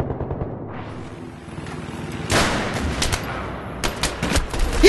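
Battlefield 3 video game gunfire, bursts of rapid shots and heavy blasts over a constant battle rumble, loud and dense with no clear voices.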